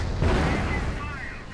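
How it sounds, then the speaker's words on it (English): A single heavy mortar boom lands in a Company of Heroes battle, loud and rumbling, then tails off into a low, settling decay. "They're taking the middle with mortars."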